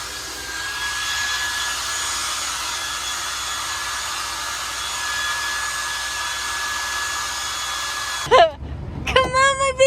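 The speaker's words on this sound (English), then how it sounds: "gonna blow dry my hair right now" A hair dryer blows steadily and loudly at close range while hair is being blow-dried, then cuts off near the end, when a voice starts talking.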